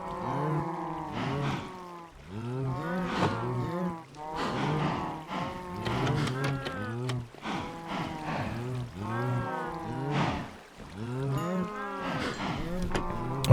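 Cattle mooing on a vanilla Minecraft automated cow farm, a steady run of overlapping game moos repeating every second or two at close range with no talk.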